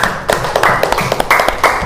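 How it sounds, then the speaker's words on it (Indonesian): Classmates applaud a student in a classroom lesson, a short, close round of clapping from a small group, fairly loud with individual claps distinct in a quick, irregular rhythm. "beri tepuk tangannya"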